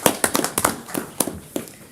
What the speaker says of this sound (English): Round of applause. Take a bow.